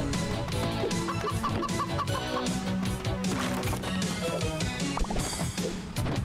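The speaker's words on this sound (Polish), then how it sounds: "O nie, kurczaki." Cartoonish chickens cluck repeatedly in the co-op moving game Moving Out, blended into a busy, loud mix of game music and crashing effects with no talk over it.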